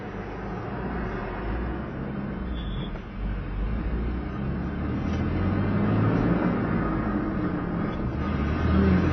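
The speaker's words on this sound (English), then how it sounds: "so we're going to go for a little drive and see if fifth gear will work" Car driving on a road during a gear-shifting test after fitting a shift improver kit, a continuous engine and road rumble under wind noise that swells gradually as it picks up speed.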